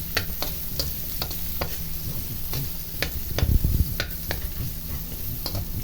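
A utensil stirs ingredients browning in a pan, with a steady sizzle under irregular, sharp taps and scrapes against the cookware, close and clear.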